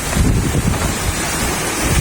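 Steady roar of wind buffeting the microphone over rushing sea surf in stormy weather, loud and continuous with no voices.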